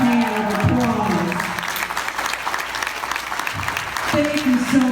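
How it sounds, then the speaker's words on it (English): An audience at an adult-class commencement ceremony breaks into sustained, moderately loud applause, with a voice talking over the clapping at the start and again near the end. "hand of applause."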